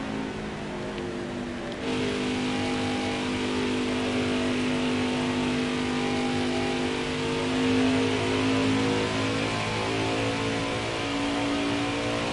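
Race truck engines in NASCAR Heat 4 drone steadily at close range, layered tones of several trucks holding a sustained, rising and falling whine through the race.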